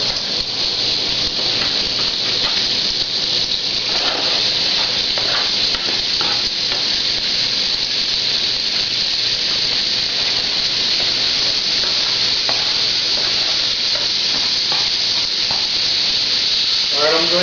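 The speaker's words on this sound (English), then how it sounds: "So I'm going to go ahead and saute the vegetables" Vegetables sauté in bacon fat for a chicken and sausage gumbo, a loud, steady hiss and sizzle that runs unbroken, with occasional stirring scrapes mixed in.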